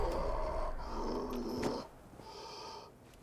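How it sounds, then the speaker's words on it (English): Heavy, rasping breathing comes from a creature in the video game Fallout 76, sounding as drawn-out snoring, snorting breaths in a steady rhythm, moderately close over faint background hum. "Here's some heavy breathing going on"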